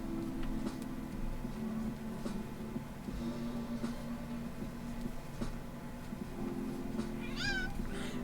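A cat meows insistently several times against a steady humming indoor background, with one clearer, louder meow near the end.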